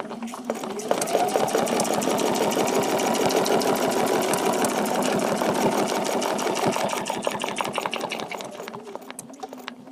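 Sewing machine stitching a feather leaf vein along a quilting template, a close, continuous rapid needle chatter with fast, even strokes that runs for the whole stretch, slightly faster near the end.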